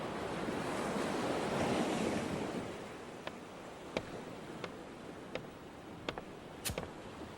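Rough sea waves wash onto the shore in a broad, continuous roar with wind noise, peaking early and then settling, with a few faint clicks over the surf.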